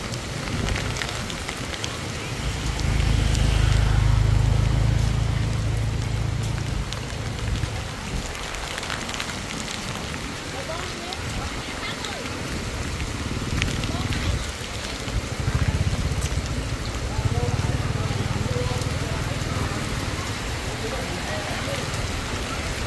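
Heavy rain falling at a rural market, a constant dense patter on surfaces with low rumbling swells, while voices talk over it intermittently.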